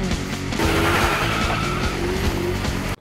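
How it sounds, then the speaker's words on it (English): Engine of a 2007 Acura RDX turbo all-wheel-drive SUV, revving hard and loud for about three seconds, with a steady roar and shifting pitch that cuts off abruptly at the end. "Rev up your engine."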